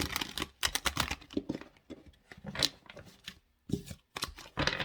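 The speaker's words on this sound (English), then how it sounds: "Didn't shuffle very well, so let me try again." Crisp bursts of tarot cards being riffled and shuffled, several quick runs of papery flutter separated by short pauses, close by.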